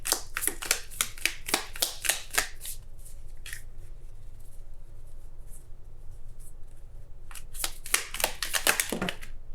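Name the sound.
tarot cards being shuffled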